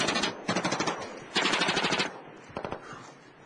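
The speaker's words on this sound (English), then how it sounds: "as Taliban evaded the machine gun fire and soon after mortars as well." Sustained bursts of machine gun fire during a Royal Marines firefight with Taliban near a settlement outside Gereshk, Afghanistan, with rapid rattling rounds in two long strings and then short trailing bursts, loud and fairly close.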